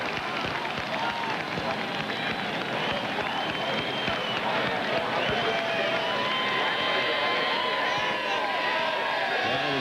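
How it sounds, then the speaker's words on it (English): A large crowd at a 1998 NASCAR race at Richmond International Raceway sends up a continuous, dense roar of cheering and clapping, loud and unbroken throughout, with a broadcast commentator talking over it. "Listen to the crowd"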